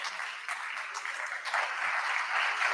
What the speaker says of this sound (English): An applause to our special guest